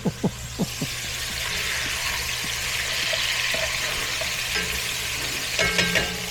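Chicken browning in a pot gives off a steady sizzle and hiss of frying, opening with a few quick knocks and closing with soft stirring clatter, with no voices.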